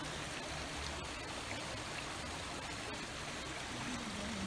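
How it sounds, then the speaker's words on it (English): Floodwater from heavy rain in Tennessee runs continuously down a road in a steady, gentle rush, with no voices and little change throughout. "Lots of water dropping the stream down the road for you guys."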